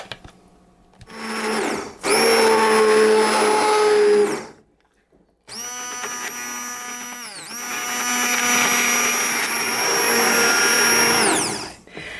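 A hand blender purees roasted tomato bisque with cream, basil and fresh oregano in a pot, whirring loudly in several long bursts with short pauses between them and the motor pitch shifting as it works.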